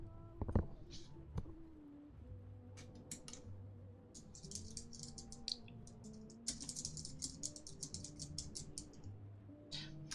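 Soft, irregular clicking of keys on a wireless computer keyboard, scattered in bursts across a quiet room with faint background hum and occasional louder taps.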